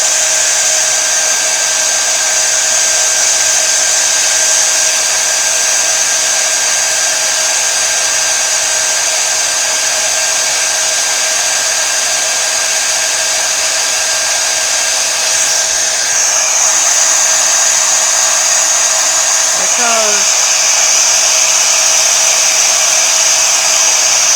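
A heat gun used for card-making runs steadily throughout, a loud, even blowing roar with a constant whine and no pauses.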